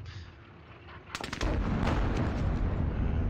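Machine gun fire in the Squad Battles war game: a quick volley of sharp shots leads into a continuous, loud, dense roar of gunfire that lasts to the end.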